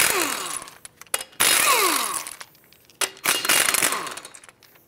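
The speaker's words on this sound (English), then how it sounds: "Continuing with the 19 millimeter socket, take off all five of your lug nuts and then remove the wheel." An impact wrench spinning off car wheel lug nuts with a 19 mm socket on a 2006-2011 Chevrolet HHR, three loud, close bursts of buzzing rattle separated by short pauses.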